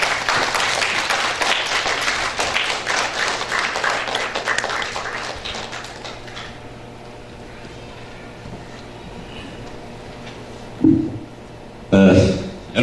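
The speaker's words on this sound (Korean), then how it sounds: "큰 박수로 환영해 주시면 대단히 감사하겠습니다." Audience at a wedding hall lecture clapping to welcome the speaker, dense applause over the first several seconds that fades to quiet room tone, with brief bursts of talk near the end.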